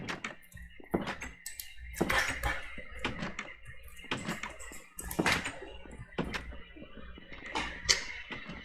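Doors in the Minecraft Minecolonies colony swing open and shut over and over, a run of about a dozen sharp wooden clunks and creaks in an uneven rhythm, close and fairly loud, with no talking.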